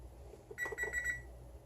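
An oven timer chirps a short cluster of four bright electronic beeps in quick succession as it is set, fairly faint in a quiet kitchen.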